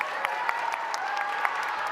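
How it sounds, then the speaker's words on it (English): Audience applause after an interactive children's book reading, a steady patter of many hands clapping at moderate level with a few sharper individual claps standing out, and faint voices mixed in. "One last round of applause for Peter and Paul."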